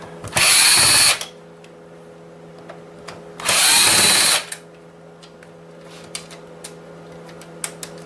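A power drill removing Phillips screws from a PS4 console: two loud whirring bursts of roughly a second each, separated by a pause filled with a low steady hum and small clicks.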